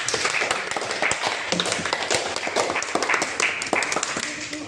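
Students in a classroom clap for group 2, a dense patter of applause lasting several seconds with some voices mixed in.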